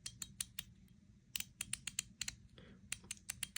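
Sharp metallic clicks from a MetalFidgets haptic coin, a fidget toy, come in quick irregular bursts of several snaps, each bright and close, with short pauses between clusters and no talking.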